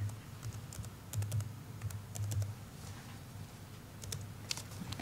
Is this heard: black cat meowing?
no